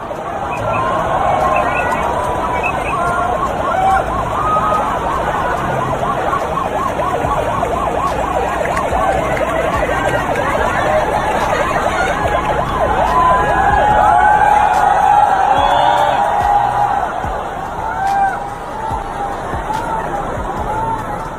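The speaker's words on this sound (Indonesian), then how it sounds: "para demonstran dengan sigap memberi jalan untuk mobil damkar tersebut bisa lewat" A fire truck siren wails continuously and loudly as the engine pushes through a crowd of demonstrators, the rising and falling tone steady throughout over dense crowd noise.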